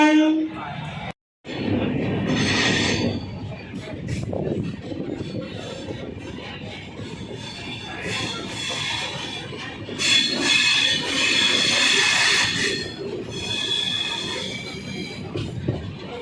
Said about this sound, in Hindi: आज हम ट्रेन में चढ़ गए हैं, ये अब चलते हैं आगे उसे दिखा रहे हैं।